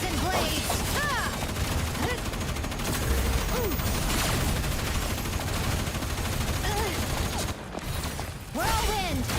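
Rapid sustained gunfire and weapon effects in the video game Terminull Brigade, a dense loud fusillade with whooshes and mechanical clatter running almost continuously, dipping briefly near the end before resuming.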